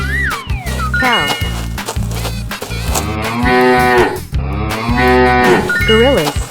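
A cartoonish cow moos loudly and repeatedly in a 3D animal slide game, with a long drawn-out call followed by more lowing over game music and effects.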